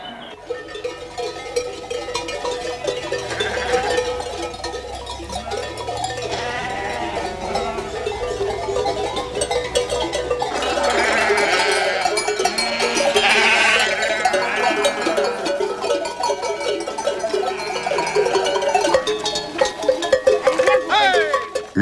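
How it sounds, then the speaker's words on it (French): A flock of sheep wearing cowbells walks along small mountain paths toward alpine pastures near Notre-Dame de la Salette in the French Alps. Many bells clang without pause, and bleats mix in close by for the whole stretch. "Au pied des hautes montagnes, les moutons prennent des petits sentiers en direction de Notre-Dame de la Salette"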